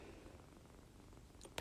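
A young kitten purrs softly at close range, a faint, steady low rumble continuing without pause, with a brief sharp rustle at the very end.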